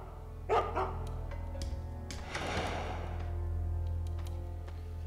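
A dog barks in the stealth video game Mark of the Ninja, sounding a couple of short, sharp bursts over a steady low game-ambience drone, with no talk.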